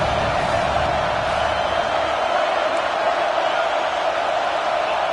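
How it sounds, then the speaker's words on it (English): Crowd noise fills a college football stadium as fans rise up to help their defense, a dense, steady roar of cheering that holds at one level throughout. "This crowd rising up, sensing that its defense needs some help."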